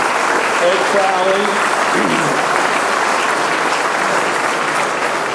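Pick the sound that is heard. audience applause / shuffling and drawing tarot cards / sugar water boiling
audience applause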